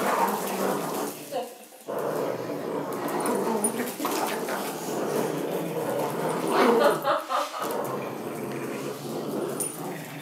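Dogs growl and grumble in rough play, a low continuous rumbling with whimpers and yips mixed in, close by and fairly loud, while people talk over it.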